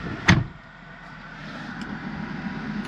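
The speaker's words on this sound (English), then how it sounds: "Let's close this door" A 2001 Mercedes-Benz E320 4Matic wagon door shuts with a single sharp, close thud, followed by a steady low hum inside the car.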